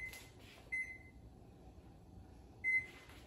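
Two short electronic beeps from an oven's keypad as a 20-minute baking time is set for lemon bars, spaced about two seconds apart, each clear against a quiet kitchen background.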